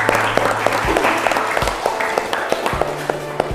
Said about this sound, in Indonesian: Tepuk tangan untuk Cika.